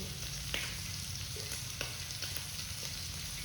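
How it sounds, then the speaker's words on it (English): Meat sizzles and spatters steadily in a generous amount of olive oil in a pan, a close, continuous frying hiss with small pops and occasional stirring clicks, no voices. "when you're frying the final meat"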